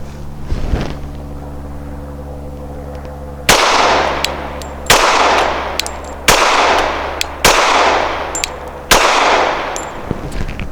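A Glock 21 .45 pistol fires six loud, close shots at roughly one-and-a-half-second intervals, each sharp crack followed by a ringing decay, after a faint clink at the start over a steady low hum.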